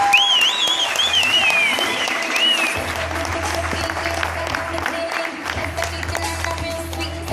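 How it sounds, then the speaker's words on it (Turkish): An audience at a stage event applauds the directors with dense, sustained clapping and crowd noise. A high whistle rises over it at first, and the applause continues at full strength to the end. "Direktör arkadaşlarıma, yoldaşlarıma, kardeşlerime büyük bir alkış alabilir miyiz arkadaşlar?"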